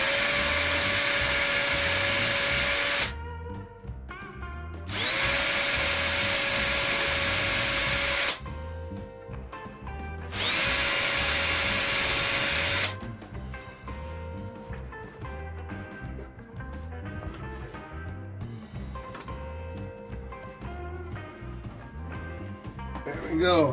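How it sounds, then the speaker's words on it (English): A power drill with a 1/8 inch bit pre-drills screw holes for an old door hinge with stripped holes, whining in three loud, sustained bursts before giving way to talk and quieter handling noises. "A little pre-drill for the screws with a 1/8 inch bit."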